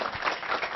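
A large student audience in a studio applauds itself in a brief burst of steady, moderately loud clapping with no speech over it.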